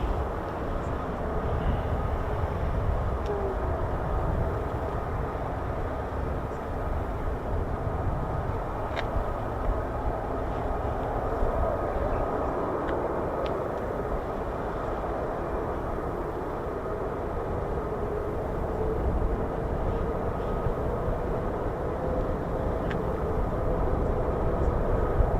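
A constant, heavy roar of F-15 fighter jets, with some F-35s mixed in, fills the air at RAF Lakenheath. It holds a broad, unbroken rumble with little rise or fall across the whole stretch, and no voices come through.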